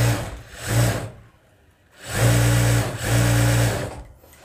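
An industrial sewing machine runs at medium speed in close, loud bursts: a short run, a pause, then two longer runs separated by a brief gap, each with a steady whirring hum.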